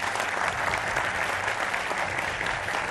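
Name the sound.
studio audience applause welcoming a guest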